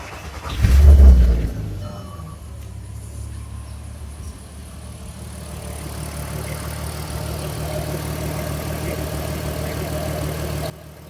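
Volkswagen engine, Golf Mk4/Bora type, cranking and catching, then settling into a steady idle after vacuum leak repair; a loud burst at startup, then an even, close running hum with no talking.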